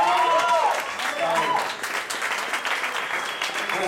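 An audience at a jazz quintet concert applauds in a steady burst of clapping while an announcer speaks over it.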